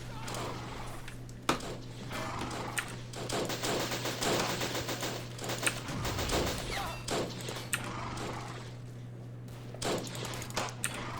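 WW1 desert cavalry battle in Men of War: a steady chatter of machine gun fire with scattered heavier thuds and crashes, moderately loud over a constant low drone, no voices.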